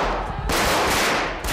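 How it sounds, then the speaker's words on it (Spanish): Gunfire erupts in the Spanish parliament during the 1981 coup attempt, dense rapid bursts of shots filling a reverberant chamber, loud and continuous with a fresh volley near the end. "los primeros disparos del intento de golpe de Estado"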